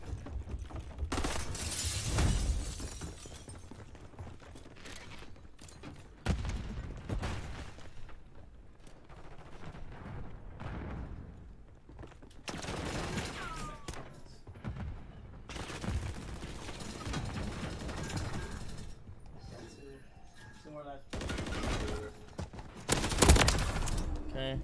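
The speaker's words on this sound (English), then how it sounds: "I unlocked the machine gun pistol after this" Gunfire from a machine pistol in Call of Duty Modern Warfare 3 multiplayer, dense bursts and fusillades recurring throughout amid game effects, with voices talking over parts of it.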